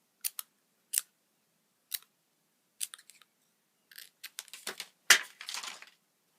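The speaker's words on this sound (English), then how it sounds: "I'm just going to cut some zigzags like this" Scissors snip zigzag teeth shapes into purple paper, sharp isolated cuts at first, then quicker clustered snips with rustling paper toward the end; close and fairly quiet, no talking.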